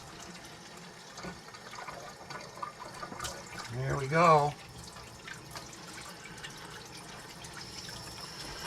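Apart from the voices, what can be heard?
water filling a container from tap for water test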